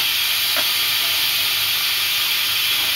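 Loud, continuous hiss of steam escaping from a pressure cooker whistle after cooking gajar ka halwa (carrot pudding), a steady close rush with one brief faint tone, no speech.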